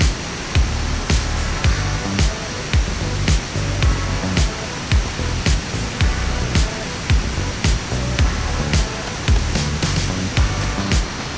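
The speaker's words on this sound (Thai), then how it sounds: "นั่งฟังเสียงธรรมชาติเสียงน้ำตก" Waterfall at a riverside campsite in a botanical garden park, a steady broadband rush of falling water, loud and close, with repeated sharp clicks or taps scattered through it and no voices.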